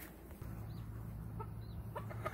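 Chickens clucking in a chicken coop, soft scattered clucks and murmurs over a low steady hum, fairly faint and close.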